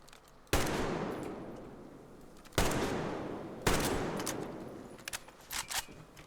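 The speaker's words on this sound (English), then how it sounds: "I'm shooting those things, by the way" Three heavy gunshots from Metro Exodus ring out loud and close, each with a long echoing decay, followed by softer scattered impacts and noises.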